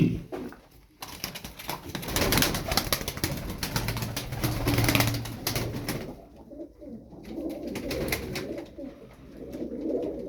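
Feather-footed milk-white tumbler pigeons, with a male cooing steadily at close range in low, soft murmurs over a hiss of rustling and wing noise, with no voices.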